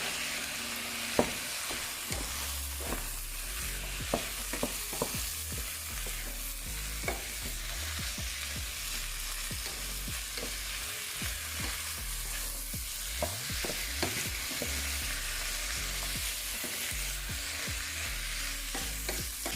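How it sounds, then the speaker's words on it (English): Chickpeas being stirred into a sizzling vegan coconut curry, a Jamaican rundown-style ital stew, with a spoon scraping and clacking repeatedly against the pot over a steady frying hiss. "I have 1 can of cooked chickpeas, and we're gonna stir that in."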